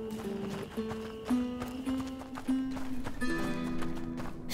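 Horse hooves clip-clop on the ground in A Plague Tale: Innocence, a steady run of taps set against a droning in-game music bed, with a loud quick pair of footfalls near the start and a busy, close texture throughout.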